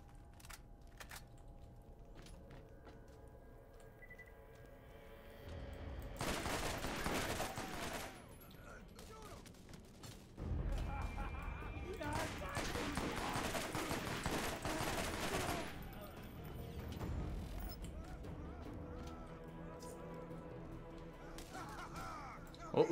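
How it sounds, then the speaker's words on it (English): Bursts of gunfire in the video game Borderlands GOTY Enhanced, loud rattling volleys of several seconds each with quieter game sounds between, no talk over them. "Who's shooting me?"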